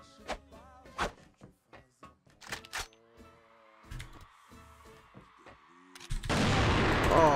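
Sharp shots, including AWP sniper rifle fire, crack out in irregular bursts amid scattered clatter in a video game, then a heavy rushing blast swells loudly at the end.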